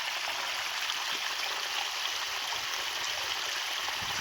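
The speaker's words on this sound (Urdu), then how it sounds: "یہ دیکھو اوپر سے پانی آ رہا ہے،" Water pours down from above into a small village stream, a steady, even rushing hiss that carries on without pause, no voices over it.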